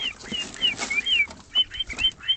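A small wild bird with fishing line wrapped around its toes flaps its wings during feeding, a quick flutter mixed with a run of high, bright chirps.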